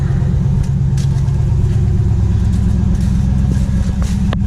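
A 2016 Ram 1500 pickup with an exhaust cutout runs cold at a steady fast idle, a loud continuous low rumble with a rapid, even throb and no talking.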